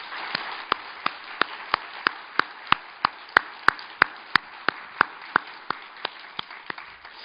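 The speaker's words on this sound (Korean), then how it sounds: "하나님께 영광의 박수를 올려드립니다." A church congregation claps in unison during a worship service, producing about twenty crisp, evenly spaced claps in a steady beat, moderately loud in a quiet hall.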